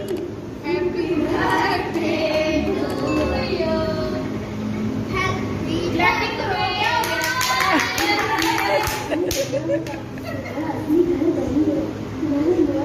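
Family birthday gathering where cake is cut, with steady hand clapping running throughout beneath lively children's voices and overlapping chatter, close and loud.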